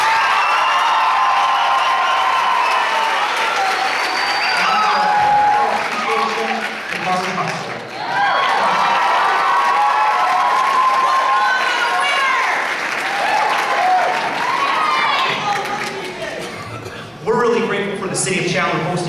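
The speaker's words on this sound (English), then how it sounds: "Please give her a round of applause." An audience at a teen talent competition applauding and cheering, sustained loud clapping with whoops and crowd noise, briefly dipping before swelling again, with voices mixed in.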